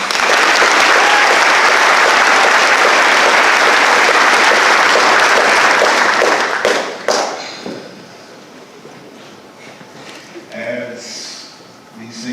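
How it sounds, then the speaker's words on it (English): Seniors at a high school senior awards night receive sustained loud applause from an indoor crowd for about seven seconds, then the clapping fades to scattered claps and murmuring. "Give them a round of applause."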